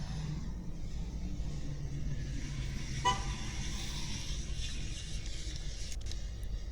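A passing truck gives a single short toot of its horn partway through, set against a constant traffic rumble at a Tennessee vacation spot.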